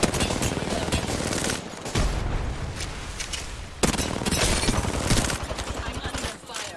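Bursts of rapid automatic gunfire from an Apex Legends match come in loud sustained volleys with brief gaps, mixed with game effects, while a player talks over the shooting.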